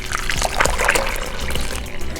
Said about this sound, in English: I'm gonna pour 500 milliliters of water